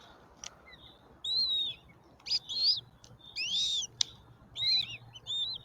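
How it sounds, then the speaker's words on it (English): Goshawk chicks in a nest give repeated thin, high chirps in short bursts, about six calls over several seconds, fairly close against a steady low background hum. "I'm hearing some happy chirps in there."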